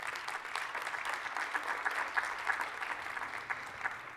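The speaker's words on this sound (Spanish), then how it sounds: "un gran aplauso" Audience at an international sustainability and habitat congress applauding steadily, a dense, continuous wash of many hands clapping at even volume throughout, heard from within the room.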